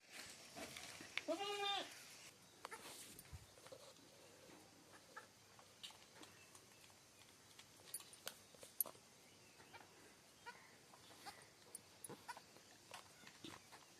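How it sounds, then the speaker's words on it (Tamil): A baby goat bleats in one short, high, wavering call near the start, followed by a quiet outdoor scene with scattered faint clicks and rustles. "எப்படி கத்துது பாருங்களேன். குட்டி ஆடு பாருங்களேன்"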